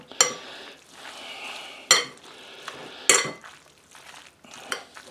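Barbecue beef is tossed with sauce in a bowl, making three sharp clanks of utensil against the bowl amid wet stirring and scraping, with no talk over it.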